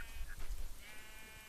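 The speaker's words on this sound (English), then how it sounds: "Am I hitting a sheep right now?" A sheep in a video game bleats while being punched, a short wavering bleat over low thumping hits, fairly close and moderately loud.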